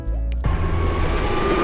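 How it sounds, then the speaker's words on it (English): Hobbywing 5250 130 kV motors on a Parsec Aero Pro electric skateboard let out a loud, sustained high-pitched whine that kicks in abruptly and holds steady, with a broad roar beneath it and no talking. "What you were hearing there is the Hobby Wing 5250 130 kV motors just screaming"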